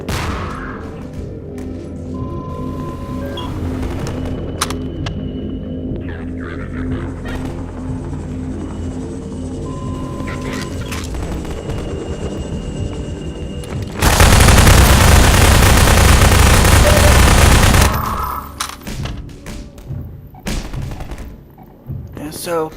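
Video-game gunfire crackles through a Half-Life 2 firefight with Combine enemies: scattered shots and thumps over a droning backdrop, building to a dense, loud burst of sustained fire before tapering off.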